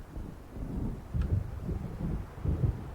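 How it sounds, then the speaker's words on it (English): Low, rolling thunder from an approaching storm in the video game Alan Wake rumbles in several soft, distant swells, with no voices. "It seems there's a storm coming."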